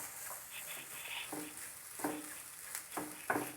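Grated coconut roasting in ghee over a slow fire, with soft, irregular spatula scrapes and light stirring in the pan, a few slightly sharper scrapes near the end, all fairly quiet and close.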